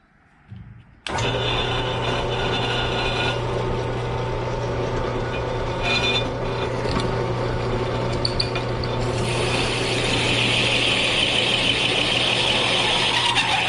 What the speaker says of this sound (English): Now he's going to use the drill press.